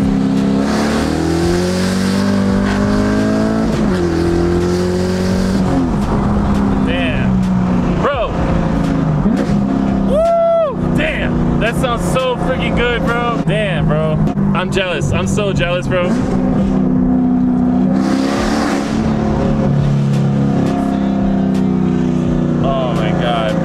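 From inside a car on the road, the engine revs hard and accelerates through rising and falling gear pulls for over twenty seconds, loud and close, while passengers talk and exclaim over it.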